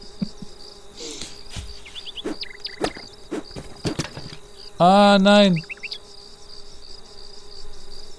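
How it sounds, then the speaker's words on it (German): Bees in the Lakeview Cabin video game swarm in a loud, buzzing burst lasting about a second, amid scattered game effects and chirps, while someone speaks briefly in German. "Und ich habe Bienen im Gesicht."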